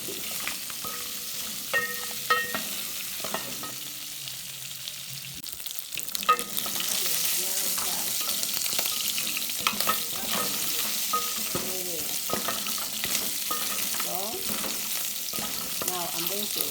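Beef fries in a deep-fry saucepan: a quieter start with scraping stirs, then from about six seconds a loud steady sizzle with spatula scrapes and stirring throughout.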